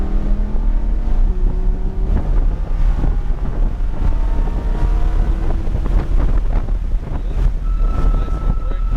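A car accelerating on a race track, its engine droning loudly and steadily with rising and shifting tones, heavy wind buffeting the microphone throughout.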